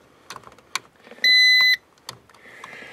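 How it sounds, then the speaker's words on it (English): A Verizon FIOS battery backup unit sounds a single sharp electronic beep lasting about half a second, loud and clear amid faint handling clicks and rustling. "There's that stupid beep."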